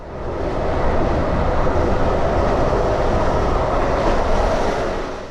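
ZSSK Rýchlik sleeper train underway, a steady loud rumble of wheels and carriage noise heard from inside the car, broad and continuous with no distinct clicks and no voices.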